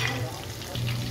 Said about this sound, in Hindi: इसको चम्मच चलाते रहें और इसको ऐड करते रहें